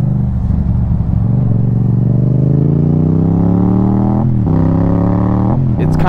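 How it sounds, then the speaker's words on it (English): A motorcycle with strong engine braking decelerates in traffic, its engine note steady and loud, pitch sliding gradually down with brief shifts in tone, close to the rider with constant road and wind noise. "I have a bike with a lot of engine brake."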